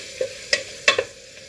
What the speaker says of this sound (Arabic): هالي خياتي راني نقلي فيها، نزيدوا لها مغرف نتاع طوماطيش